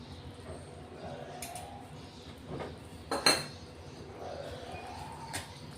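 A spoon clinks against a steel dish as three spoonfuls of yogurt are added to spices for a mung bean usal. A few sharp, close metallic taps ring out over a soft kitchen background.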